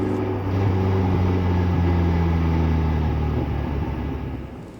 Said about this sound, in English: how loud I can make the exhaust burble when I let off the gas